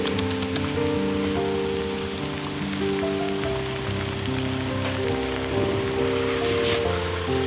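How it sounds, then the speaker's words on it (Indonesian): Steady rain pours down outdoors, a dense continuous hiss with droplets striking surfaces, loud and close throughout with a faint low tonal hum layered underneath. "Hujan lagi, guys."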